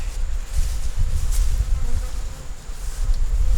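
Honey bees buzz steadily around nuc boxes during a hive check, a continuous low drone close by with no talking.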